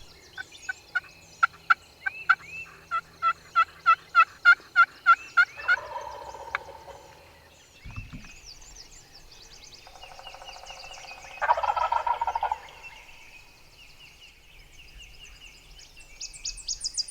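Wild turkeys gobble in a Missouri spring field, with a run of loud, rhythmic gobbles near the start, then more scattered calls and other bird sounds over quiet outdoor background.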